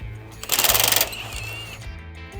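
A Milwaukee power tool spins a nut off the suspension of a 1996 Toyota 4Runner, giving a loud, rapid, buzzing half-second burst that gives way to a fainter whine over a low background hum.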